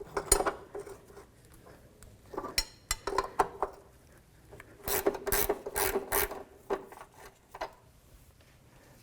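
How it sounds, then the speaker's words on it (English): Metal clicks, clanks and ratcheting from a 9/16 socket and wrench working a front upper control arm bolt on a 1984-01 Jeep Cherokee, several short bursts close by with quiet gaps between. "So 9/16 socket on the fender well side going through that cutout, and a 9/16 wrench on this side."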